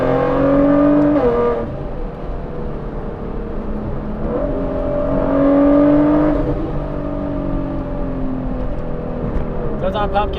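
Nissan GTR with intake, downpipes, flex fuel and a 4-inch titanium straight-piped exhaust, its engine rising and falling through loud revs with two swelling peaks, close by and steady throughout.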